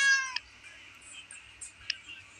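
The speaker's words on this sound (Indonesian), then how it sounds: "Aku mandiin kucing ini" A single cat meow at the start, fairly clear and close, followed by quiet background with faint scattered noises.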